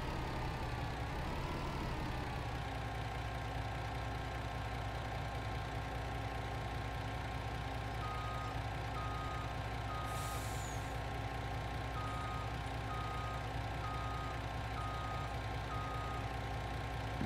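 A truck in Farming Simulator 19 idles with a steady low engine drone while its reversing alarm beeps in a regular repeating pattern, with a brief hiss partway through.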